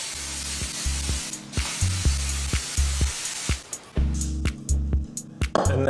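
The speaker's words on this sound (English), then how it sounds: "I'm going to spray it with some cooking spray." Repeated short bursts of cooking spray hissing onto a pan, close by, interspersed with light clatter and taps against a steady low background hum.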